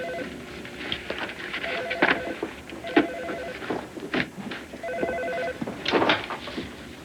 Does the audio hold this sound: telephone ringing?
yes